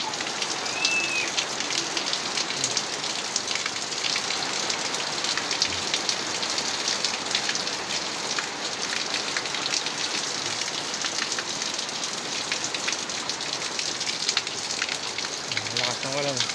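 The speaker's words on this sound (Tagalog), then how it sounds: "lakas ng ulan." Heavy rain pours down steadily in a dense, continuous hiss, drumming loudly on a nearby surface for the whole stretch.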